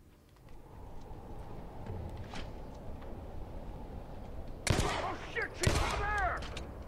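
Two sharp gunshots ring out in The Last of Us: Left Behind, loud and close against a low ambient background, each followed by a brief ringing tail.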